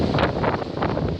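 Strong high wind buffeting the microphone in Essex, UK, a steady broadband roar with gusty swells, loud and close throughout.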